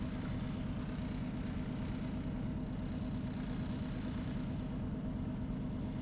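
A truck engine in American Truck Simulator runs at a steady, low idle-like drone with a faint rattle, quiet and unbroken throughout.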